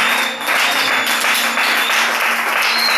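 Steady, loud applause from a worship congregation at a deliverance service, continuous and close, with a faint sustained tone running beneath the clapping.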